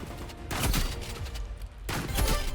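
Shotgun blasts in the shooter game Rivals: two heavy, loud booming shots roughly a second and a half apart, each with a short rumbling tail, and no talking.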